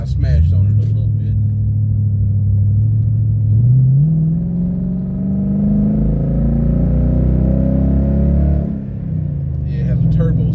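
A Toyota Tundra pickup with an upgraded throttle body accelerates hard: a loud, close engine roar climbs steadily through the gears with rising pitch, then drops off sharply near the end, with brief talk at the start and finish.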